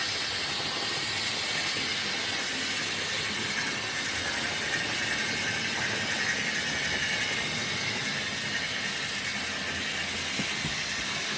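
A 20-year-old Hornby model railway locomotive running on a layout. It makes a steady, even motor whirr with a faint rhythmic track clatter and a broad hiss, continuous throughout and with no voices.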